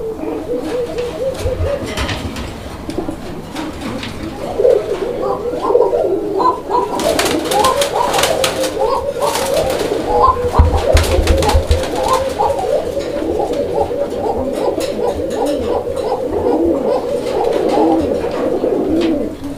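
A red Bashiraj pigeon pair coos continuously in deep, repeated rolling calls, loud and close, with scattered bursts of flapping or rustling noise throughout.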